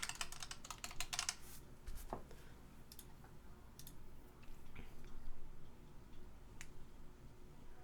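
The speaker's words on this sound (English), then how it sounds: "in the search box type in Pylint." Fingers type on a computer keyboard at a desk while entering a search, soft close clicks and key taps in quick bursts at first, then sparse.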